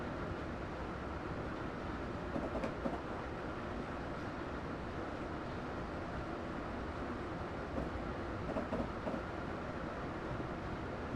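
A train running in the Train Simulator 2017 video game, a steady rumbling drone of rolling rail wagons with a few faint clicks, continuous and moderately loud, with no talking.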